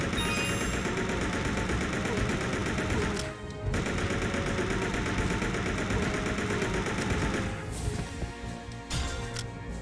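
Dense, continuous rapid gunfire in Resident Evil Survivor 2 – Code: Veronica, with a steady mechanical rumble, loud and sustained, briefly cutting out twice before resuming.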